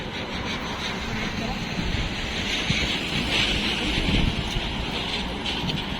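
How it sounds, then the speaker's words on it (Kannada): Steady wind gusts across a microphone outdoors while travelling in Kerala, a broad continuous rush with low rumbling buffeting that swells slightly midway, filling the whole stretch without pause. "ಗಾಳಿ ಬೀಸ್ತಾಯ್ತು"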